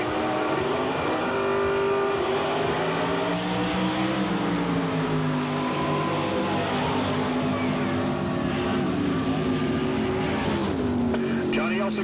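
A drag racing car runs down the strip at a 1989 Pro Stock series event. The loud engine roar rises and sweeps in pitch for the whole stretch, with announcer commentary talking over it.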